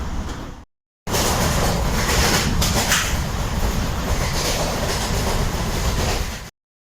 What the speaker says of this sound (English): The train has started.